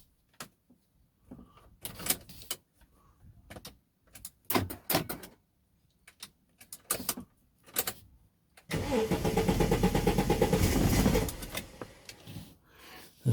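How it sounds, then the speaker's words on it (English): Ford AU car at a standstill, door locks clicking in a series of short sharp bursts, then the starter motor cranks loudly and steadily for about two seconds before cutting out, close by with no talk. "The fact that the starter motor actually turns"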